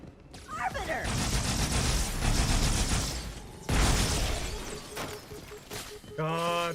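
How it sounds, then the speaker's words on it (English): Needler explosion in a Halo video game: a burst of crackling, shattering blasts with gunfire-like bursts and loud mechanical impacts, continuing for several seconds, ending with a brief tonal sound. "that needler explosion does way too much"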